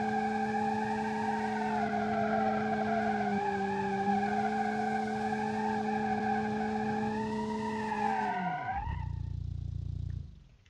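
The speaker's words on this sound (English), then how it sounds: "Look at that, a burnout with a 100 horsepower engine." A car with a 100 horsepower engine does a burnout in a video game. A sustained, loud engine drone with tire squeal holds steady for several seconds, then cuts out into a lower rumble.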